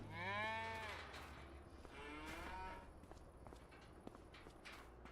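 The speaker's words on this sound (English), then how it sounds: "We got cows that are being milked" Cows on a video-game farm, the Witcombe Farm Park map, where cows are milked, give two drawn-out moos close by, followed by quiet footsteps and soft clip-clopping.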